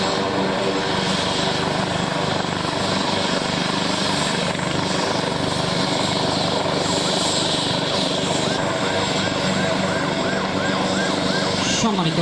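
A helicopter's loud, continuous rotor and engine roar dominates throughout, steady and close, with faint voices underneath.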